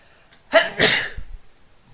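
A single sharp human sneeze close to the microphone, a quick breathy intake bursting into a loud hissing explosion, followed by a short quiet rustle.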